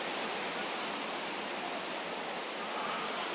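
Kothapalli waterfall near Lambasingi pours forcefully into shallow water, a steady, dense roar of rushing water that stays constant and fairly close with no voices.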